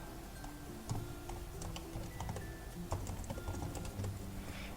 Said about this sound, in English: So let's attach the Arduino and let's start typing.